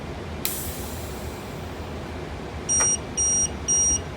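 A reed switch test alarm gives three short electronic beeps in a row near the end, each about a quarter second long, after a faint click and low background hum.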